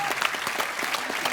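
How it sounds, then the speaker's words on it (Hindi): A studio audience at a comedy talk show claps in a steady, busy burst of many hands, moderately loud and continuous with a faint crowd murmur under it. "एक बार जोरदार तालियां"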